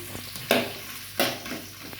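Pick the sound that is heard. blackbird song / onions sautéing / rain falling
onions sautéing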